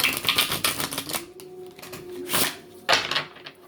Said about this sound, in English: going to cut the deck, and let's take it from here, from the top